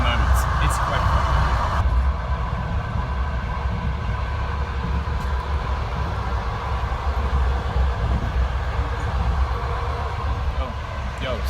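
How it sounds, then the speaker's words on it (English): A passenger train travelling to Brest, Belarus rumbles steadily from inside the carriage, a constant low rolling drone with faint rattles and a few clicks near the start. "So I'm on a train to Brest."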